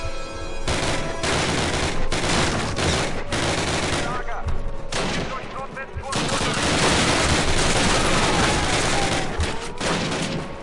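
Bursts of Call of Duty gunfire crackle across the whole stretch, dense overlapping automatic and single shots at close range, loud, with short lulls between volleys.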